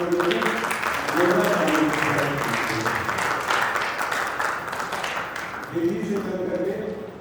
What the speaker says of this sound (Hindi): तो सर का जोरदार तालियों से हार्दिक स्वागत